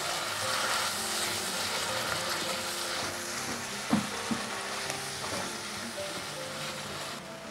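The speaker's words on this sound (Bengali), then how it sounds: "মশলাটা প্রায় কষা হয়ে গেছে" Chicken curry masala with coriander powder and salt fries in a pan with a continuous close sizzle, broken by a few sharp knocks of stirring near the middle, and no voices.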